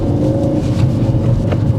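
Low engine rumble of a learner's car pulling away as the clutch comes up, steady and close from inside the cabin, with no talk.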